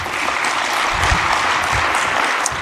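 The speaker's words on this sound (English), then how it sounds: "Please welcome him with a warm round of applause" A conference audience at a forum gives a speaker a warm welcome on stage, producing steady, loud, full-room clapping that continues evenly for a couple of seconds without speech.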